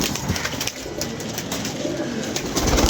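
Pigeons coo softly within a dense, constant wash of flock noise and fluttering, a busy loft of many birds heard at close range with no talk.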